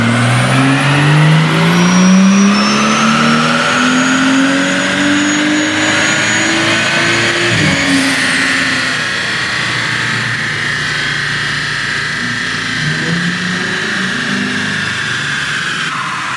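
A tuned BMW 340i with an N55 engine running on a dyno, droning loud and steady as the revs climb smoothly and then hold near the top, close up without any talk.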